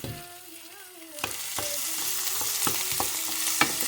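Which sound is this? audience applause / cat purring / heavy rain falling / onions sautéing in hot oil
onions sautéing in hot oil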